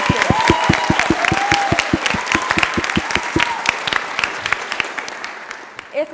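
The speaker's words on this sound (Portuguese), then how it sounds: "palmas pra vocês" An audience of student teachers at an education event claps loudly and steadily, sharp dense hand claps with a few voices and cheers mixed in, fading slightly toward the end.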